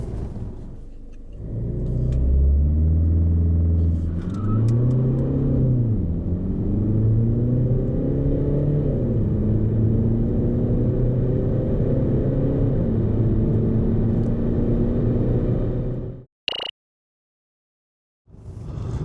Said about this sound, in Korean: 이와 같은 파워트레인을 기반으로 한 발진 가속 성능을 한번 볼까요?